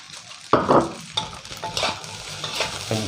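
Long beans stir-fried in a wok for Chinese sausage fried rice, with a loud sizzle bursting in as the beans hit the hot pan, followed by repeated scraping stirs and steady frying.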